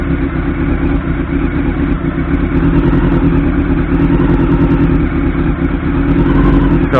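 A 1989 Honda CB-1 with an inline-four engine runs steadily at idle, a loud, close, even motorcycle drone with a slight rise near the end and no talking.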